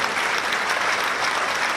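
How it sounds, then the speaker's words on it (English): An audience breaks into sustained applause and ovation, dense and steady clapping from a large crowd throughout, with no speech over it. "On va saluer ce moment avec des ovations bien nourries"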